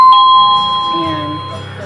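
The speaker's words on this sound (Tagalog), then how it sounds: "So, try nating pindutin yung doorbell." A CACAZI HYA10 wireless doorbell chime sounds a single loud, sustained ding-dong tone that rings out and slowly decays, with a low murmur in the background.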